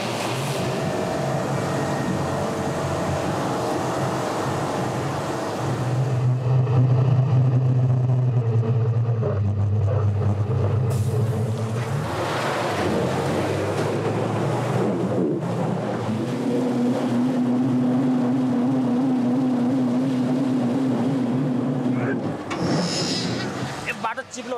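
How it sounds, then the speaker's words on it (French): A bus stuck in a muddy rut on a rough dirt track, its engine roaring and straining loudly and continuously while revving rises and falls as the wheels slip, with a voice talking over it. "Le bus est dans une ornière. Il glisse et je n'arrive pas à en sortir."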